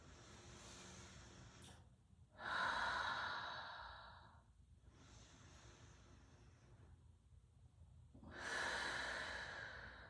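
Deep breathing while lying on a mat during a workout cool-down, two long, audible sighing exhales separated by a quiet stretch, close and fairly soft.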